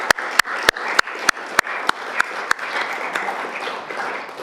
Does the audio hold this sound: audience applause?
yes